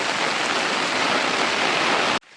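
Rain pours on a village farm field in a loud, unbroken wash of hiss that cuts off abruptly near the end, leaving near silence.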